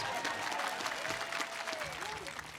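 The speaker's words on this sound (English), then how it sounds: "Yeah, clap for that." Brief audience applause at a high school graduation ceremony, steady dense clapping from a large crowd with faint voices mixed in.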